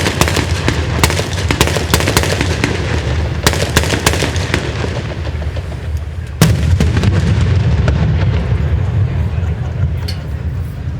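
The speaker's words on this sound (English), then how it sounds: "It seems as though the unmanned diversionary explosion was successful." Unmanned diversionary explosions at a special operations military capabilities demonstration, with repeated loud sharp blasts and cracks in irregular bursts, followed by a heavy boom and a rumbling aftermath outdoors.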